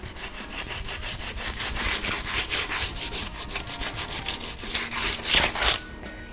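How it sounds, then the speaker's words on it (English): Steady back-and-forth rasping of hand sanding a varnished dark wood chair, close and rhythmic, about four strokes per second, continuing for several seconds with no talking. "This chair is obviously dark wood and I'm going to give it a sand"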